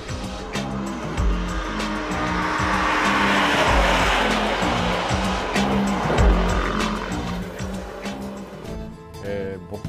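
A Honda Civic Type R is driven at full throttle around the Suzuka circuit, its engine note rising and dropping through repeated gear changes with a sustained road and wind roar. No one speaks.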